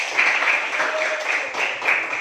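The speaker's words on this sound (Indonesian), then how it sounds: "berikan tepuk tangan kepada kelompok 2" A school class applauds a student group with dense, fairly loud clapping from many hands, a continuous wash of claps with slight swells and a faint voice partway through.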